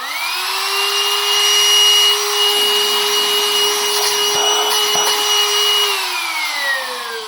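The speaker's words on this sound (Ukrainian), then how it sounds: "На коробці написано потужний надувальник для матраців. Беру батарею лідер, пробуємо." A battery-powered electric mattress inflator runs steadily with a loud, even motor whine and airy rush, its pitch dipping slightly midway and winding down near the end.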